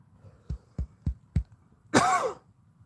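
Four soft, evenly spaced low thumps are followed by one harsher, raspy cough close by.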